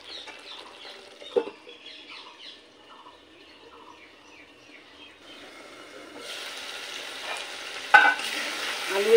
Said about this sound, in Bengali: ভেজে রাখা আলুটার সাথেও আরও 1 মিনিট একটু কষিয়ে নেব